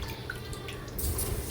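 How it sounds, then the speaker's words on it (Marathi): Faint watery dabs and drips as water is spread over a bhakri flatbread on a hot griddle, soft and close with a slight hiss near the end. "तर भाकरीला पाणी लावून घेऊया।"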